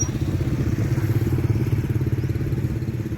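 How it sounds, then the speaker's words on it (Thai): A motorcycle being ridden, its engine giving a steady, close, throbbing rumble with a rapid regular pulse throughout, alone with no voices. "ขี่รถจักร"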